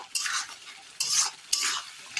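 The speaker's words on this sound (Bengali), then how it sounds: "মশলাটা একটু ভালো করে কষিয়ে নেব" Spice paste for papaya curry is stir-fried in a pan, with several bursts of scraping and sizzling strokes close up and no talk.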